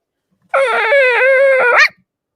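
A tiny, one-pound fluffy dog gives one drawn-out, whining growl lasting over a second, loud and close with nothing else around it.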